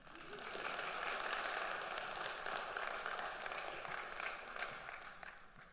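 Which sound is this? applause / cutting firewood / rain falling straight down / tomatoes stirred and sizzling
applause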